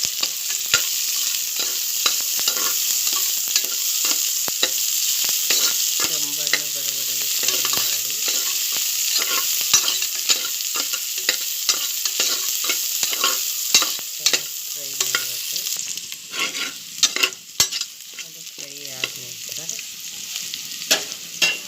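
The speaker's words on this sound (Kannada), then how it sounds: "ಎಣ್ಣೆ ಕಾಯ್ದ ನಂತರ ಅದಕ್ಕೆ ಈರುಳ್ಳಿ ಮತ್ತು ಬೆಳ್ಳುಳ್ಳಿ ಹಾಕಿ ಚೆನ್ನಾಗಿ ಫ್ರೈ ಮಾಡಬೇಕು" Onion and garlic fry in hot oil for a village-style chicken curry, giving a constant loud sizzle broken by repeated clacks and scrapes of a spoon against the pan.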